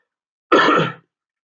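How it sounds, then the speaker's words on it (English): One short, sharp cough, close and loud, against silence. "Sorry, got a cough."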